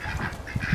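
Ducks honk and call in a few short, close cries over steady background noise; the birds are young ducklings kept in a backyard on loose feed formulated for ducks.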